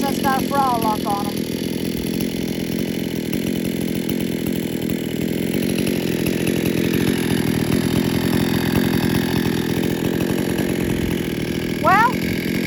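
A chainsaw with a throttle lock, freshly tuned, runs steadily at high revs for the whole stretch. The engine drone is loud, close and unbroken, and a short voice-like chirp cuts in near the end.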